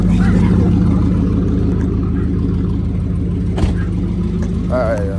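Ford Mustang GT cruising around a residential block and cul-de-sac, its steady low engine rumble heard from inside the cabin, loud and continuous with people talking over it.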